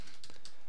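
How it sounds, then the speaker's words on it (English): Quick keystrokes on a computer keyboard: a short run of close, crisp taps in under a second, with no other sound around them. "I'm gonna left align this, and I'm gonna type in"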